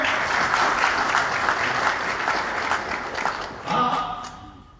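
An audience at a spiritual talk claps together in a steady burst of applause that fades out near the end, with a voice briefly heard at the close.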